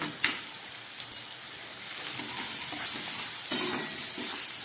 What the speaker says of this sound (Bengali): খুব ভালো করে এবার আমি মিশিয়ে নিচ্ছি